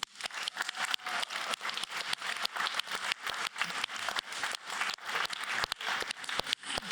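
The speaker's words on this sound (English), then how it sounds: "please give our newbies a warm round of applause." A room full of people claps steadily for several seconds, dense sharp hand claps forming sustained applause with a few louder individual claps standing out.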